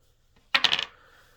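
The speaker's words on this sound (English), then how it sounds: "I would roll this dice." Dice for the Thunder Road Vendetta board game, rolled onto a table in a quick cluster of three or four sharp clattering hits that fade into a brief rattle, close and clear with no talk.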